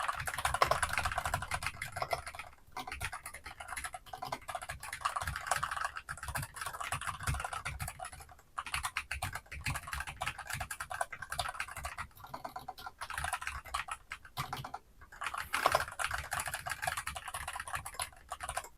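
Continuous clacky typing on a Dygma Raise 2 split ergonomic mechanical keyboard tented at 15 degrees, rapid keystrokes in bursts with brief pauses, close and steady throughout.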